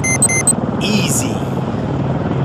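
Low rotor drone of a helicopter in the combat game Arma III, a steady throbbing hum beneath brief electronic beeps and a short radio-like chirp.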